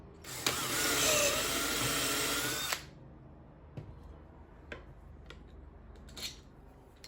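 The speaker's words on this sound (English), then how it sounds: "When screwing the shelf in place" A power drill drives a pocket-hole screw through a shelf into bedside table legs, a loud close whir lasting a couple of seconds, followed by a few quiet knocks and clicks.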